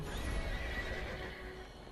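A horse whinnies briefly over low rumbling and clip-clopping hooves in the PS4 video game Neverwinter, fairly quiet and close, with no talking.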